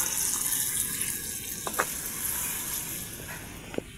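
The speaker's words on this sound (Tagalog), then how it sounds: "Lalagyan pa tayo ng tubig, pampalambot ang ating karne." Water is poured into a pot of simmering mechado beef, a steady pouring rush over a faint sizzle, close and moderately quiet, with a few small clinks near the middle and end.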